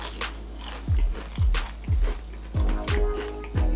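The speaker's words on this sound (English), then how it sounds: "don't know if you can hear that crunch, but man, it's crunchy." Crunchy cinnamon salt fries bitten and chewed up close: a series of loud crisp crunches, about seven distinct bites in an uneven rhythm, with no talking.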